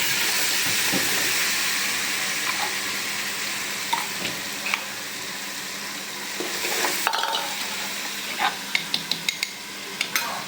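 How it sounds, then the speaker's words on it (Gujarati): Masala spices go into browned garlic frying in a pan for a desi-style silver pomfret dish, giving a continuous soft sizzle broken by sharp clicks and scrapes of a spoon against the pan. No one speaks. "આપણે મસાલો એડ કરી દેવાનો છે"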